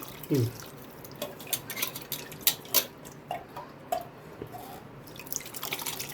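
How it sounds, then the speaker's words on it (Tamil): Dissolved tamarind water goes into a pidikarunai kara kuzhambu curry, with faint, intermittent splashes and drips plus light clinks of a utensil against the pot. "அப்புறம் அப்படியே புளியை கரைச்சி ஊற்ற வேண்டியது தான்"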